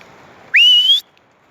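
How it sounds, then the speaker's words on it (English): A single sharp dog training whistle blast sounds outdoors, a clear rising tone that holds steady for about half a second, loud and close, with quiet surroundings before and after. "Training your dogs to a whistle is super important."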